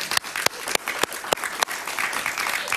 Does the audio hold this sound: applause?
yes